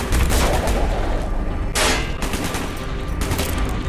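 Gunfire from a Call of Duty: Black Ops campaign mission comes in loud, close bursts of rapid shots, with a sharp crack near the middle and more volleys after, all without talk.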